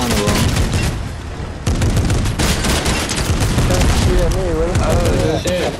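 Rapid bursts of gunfire from the video game Fortnite, loud and dense throughout, with excited voices talking over the shooting.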